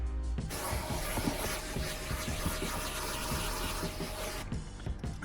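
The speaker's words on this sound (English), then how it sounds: "so I'm just going to get the hoover in there." A vacuum cleaner runs steadily over the carpet inside an Alfa Romeo Giulietta, a continuous broadband whoosh with scratchy scraping as the nozzle moves, starting and stopping abruptly.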